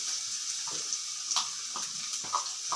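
Garlic fries in about three spoons of hot oil in a frying pan, with a constant bright hiss and a handful of short crackles and pops at irregular intervals.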